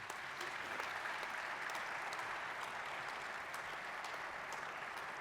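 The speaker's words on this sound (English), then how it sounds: "I think they deserve a massive round of applause." Conference audience at a sustainable gambling event giving a panel a round of applause; continuous even clapping sounding somewhat distant and faint, with no voices over it.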